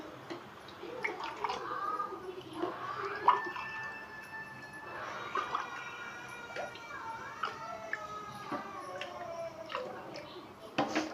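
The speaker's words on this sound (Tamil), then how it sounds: "நம்ம அப்படியே ஊற்றுறது, இந்த மாதிரி கொஞ்சம் கரண்டில் எடுத்து ஊற்றும் போது நல்லாயிருக்கும்" Carrot kheer is ladled and poured, with soft dripping and splashing plus a few light clicks, while a voice talks throughout.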